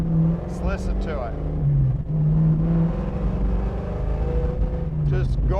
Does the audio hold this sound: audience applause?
no